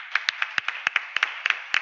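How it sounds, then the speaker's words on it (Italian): A small audience at an inaugural conference gives brief, sparse applause, a handful of distinct, close hand claps in an uneven rhythm with no talking. "chiederei un forte applauso"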